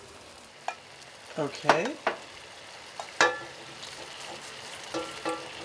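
Hasselback potatoes brushed with a garlic butter and herb mixture sizzle faintly in the background, with scattered brushing and utensil scrapes and a brief spoken word.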